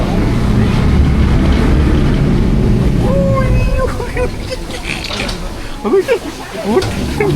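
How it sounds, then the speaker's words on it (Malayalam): The engine of a whale-watching boat off South Africa drones loudly, then eases off and quietens midway as the boat slows, with voices audible over it. "ബോട്ട് ഇപ്പോൾ ചെറുതായിട്ട് സ്ലോ ചെയ്തിട്ടുണ്ട്"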